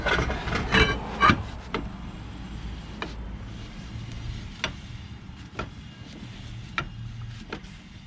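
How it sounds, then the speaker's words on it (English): A Camaro wheel spins with a dragging drum brake, giving a faint continuous scraping rub broken by a few sharp clicks and knocks, heard close up with no voices. "Sounds like some dragging, although it spins pretty good."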